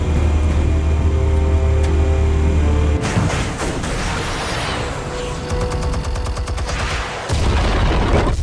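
Explosives detonate in Batman: The Telltale Series, a loud rumbling blast followed by a rapid clattering burst of gunfire-like bangs and a final boom, dense and close.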